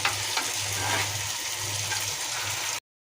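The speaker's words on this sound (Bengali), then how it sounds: "শুরুতেই মাংস দেখতে পাচ্ছেন কষাচ্ছি" Meat braising and frying in a pan gives a steady, close sizzle over a low hum for under three seconds before cutting to silence.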